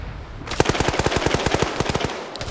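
A rapid burst of automatic gunfire in a tactical PvP match of the shooter game Arma 3, about twenty sharp evenly spaced shots rattling off in under two seconds, loud and close.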